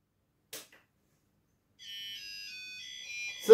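A Tracker PI-2 pulse metal detector control unit gives a faint electronic signal tone that holds steady for about two seconds after a quiet click.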